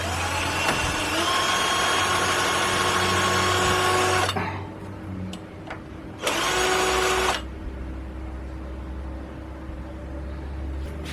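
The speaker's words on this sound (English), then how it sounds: "put it in a bloody drill and just round this off a bit." A power drill whines loudly with a grinding, scraping edge for about four seconds while rounding off a metal part, stops, then runs again in a shorter burst before cutting off.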